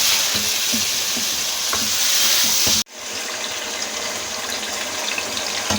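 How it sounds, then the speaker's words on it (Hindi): Chicken with masala, ginger and garlic frying in a pan for nihari, a steady close sizzle with stirring scrapes, briefly cut off midway then resuming at a slightly lower level. "ये देखें ये हमारा मसाला भून रहा है।"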